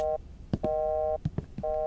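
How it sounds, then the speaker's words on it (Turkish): Telephone busy signal in a horror video game: three repeated electronic tone bursts separated by short gaps, with a few gasps and breaths from a player between them. "Telefon."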